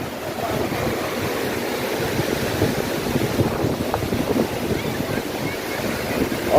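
Powerful waves break on Boracay's white-sand shore, a steady roaring wash mixed with gusty wind noise on the microphone, fairly close and constant throughout.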